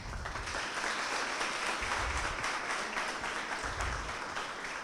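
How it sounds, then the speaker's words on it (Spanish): A university conference audience applauds its speakers with a sustained, even wash of many hands clapping, heard from a distance at a steady moderate level. "vamos a darle un aplauso a nuestros oradores"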